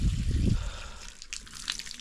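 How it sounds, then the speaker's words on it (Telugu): Hill spring water trickling and dripping near a small tribal village, soft and close, with a low rumble at the start and a few brighter splashy drips afterward. "ఇక్కడ నీళ్ళు వస్తున్నాయి వీళ్ళకి"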